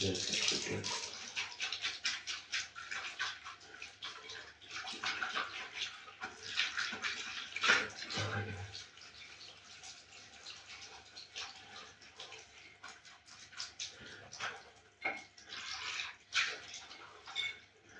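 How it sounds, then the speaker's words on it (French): Hot water runs into a bathtub with a splashing, bubbling rush that rises and falls, heard fairly close with faint background sounds and no clear talk. "L'eau chaude."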